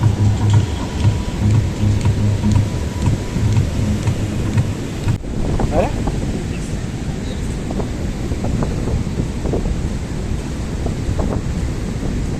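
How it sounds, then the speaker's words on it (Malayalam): Heavy monsoon rain pouring steadily near the sea, a dense continuous hiss with gusty wind noise throughout. "നല്ല അടിപൊളി മഴ ആയതുകൊണ്ട് ഒന്നും ചെയ്യാൻ പറ്റില്ല, നല്ല മഴയാണ്"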